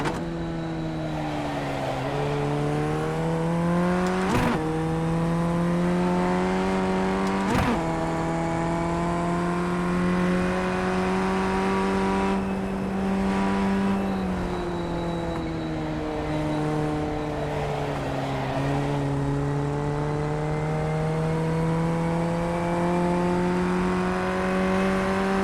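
A race car engine in a racing video game drones steadily through timed laps, its pitch rising and falling with gear changes and corners, with a few sharp clicks and no talk.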